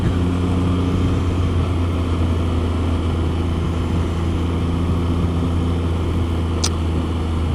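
A vehicle drives along a gravel stretch of Needmore Road, giving a continuous loud, low engine rumble mixed with road noise at an even level throughout, with no talk.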